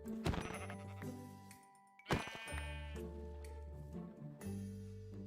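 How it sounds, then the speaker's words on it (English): Bighorn sheep bleat in a blocky sandbox video game, with two short wavering calls set against steady game music tones. "Bighorn sheep."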